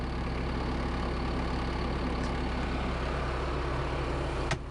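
A steady, low sprayer engine idle rumbles on evenly throughout, with a faint mechanical click near the end and no voices.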